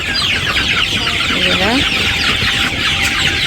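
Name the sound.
chickens clucking, white rooster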